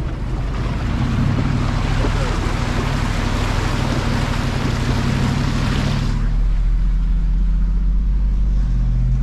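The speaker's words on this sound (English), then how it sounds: "Halfway along Pheasants Creek, you've got a river." A 4WD ploughs through a river on Pheasants Creek in the Victorian High Country, loud close surging water and engine roar that cut off abruptly partway, leaving a low steady engine drone.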